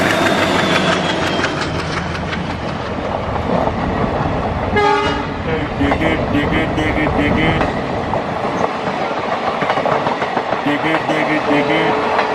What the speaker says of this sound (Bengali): হঠাৎ আলো টিমটিম করে জ্বলে ওঠে, ট্রেনের আওয়াজ বেড়ে যায়।